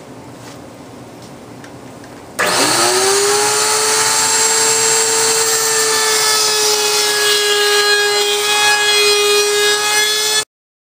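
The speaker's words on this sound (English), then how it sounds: "I've got the router set up with a 3/16 round over bit with a guide bearing at the top." A router fitted with a 3/16-inch round over bit and top guide bearing eases the corners of a wooden shelf, starting abruptly with a loud steady whine that holds for about eight seconds before cutting off.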